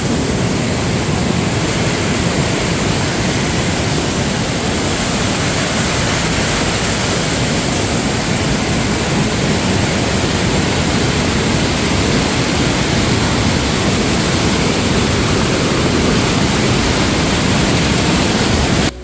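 Flowing water at the Plitvice Lakes waterfalls in Croatia, a loud, unbroken broadband roar of cascading water held steady for the whole stretch.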